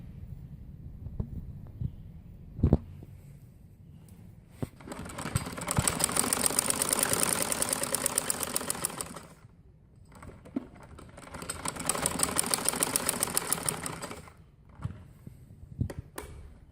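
A sewing machine stitches a frock sleeve in two bursts of rapid, even mechanical chatter, close by, separated by quiet pauses filled with handling clicks and fabric rustle.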